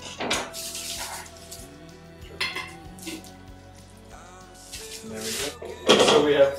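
Small clinks and rustles of a jar being covered with cling film and then a lid during home preserving, a few sharp glassy taps and crinkles amid quiet kitchen sounds, with someone talking.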